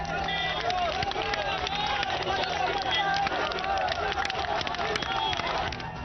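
A protesting mob in Moradabad is chased off by police: a dense, continuous crowd roar with running footfalls, shouting and babble, loud and steady throughout without clear individual speech.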